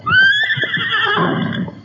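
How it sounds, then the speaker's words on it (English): A wild horse neighing loudly as a sound effect in a 1935 radio drama, one long rising then trembling whinny up close, ending in a lower breathy snort. "The horse was wild and unused to the ways of men and the weight of a saddle and a rider."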